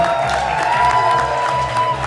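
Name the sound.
audience applause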